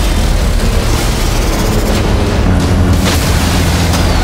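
Deep, continuous rumbling booms of time-delay grenade explosions in water roll on without pause, heavy and loud, with a dense low-end roar throughout.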